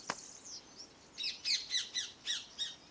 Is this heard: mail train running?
no